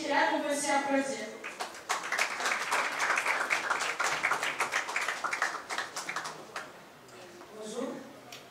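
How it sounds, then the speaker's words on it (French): After a few spoken words, a press conference audience at a jazz festival breaks into applause for a performer: several seconds of dense hand clapping that fades out before talking resumes. "Et Rachel aussi qui est là, qu'on peut aussi applaudir."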